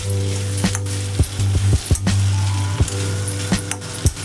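Potato fry curry sizzles in a pan as it is stirred, a steady close frying hiss punctuated by repeated sharp scraping knocks of the spoon against the pan, with a low hum underneath and no voices.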